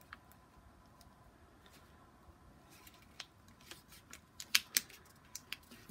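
Transparent plastic film is folded into an envelope flap, faint soft crinkles and a few sharper crisp creases near the end, quiet and close with no talking.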